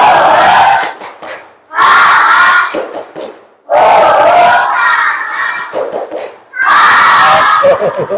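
A class of students loudly performs the 'tepuk rimba' jungle clap chant, four energetic bursts of group shouting and rhythmic clapping separated by brief pauses, close and filling the room.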